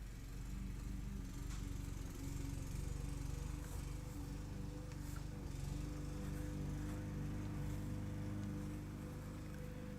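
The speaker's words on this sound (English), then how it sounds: "if you hear any noise in the background, it's just the lawnmower." A steady, droning lawn mower engine hums continuously in the background, constant and moderately distant, with no talking.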